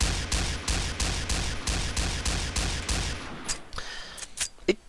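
Rapid bursts of semi-automatic fire from a KAC M110 SASS sniper rifle shot from the hip in the shooter game Combat Arms, loud evenly spaced cracks for three seconds, then a few scattered shots and clinks.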